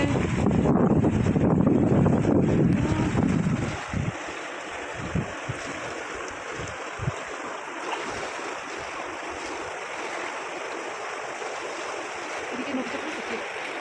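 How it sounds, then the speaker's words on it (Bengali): The Langtang Khola river in Nepal's Langtang Valley, a broad continuous rush of flowing water heard from the riverside, loudest at first then steady and slightly softer, with light wind noise on the microphone. "ফাইনালি রিভার সাইডে চলে এলাম, আর এই ল্যাংট্যাং খোলাতে এই পা ভিজিয়ে বসে আছি।"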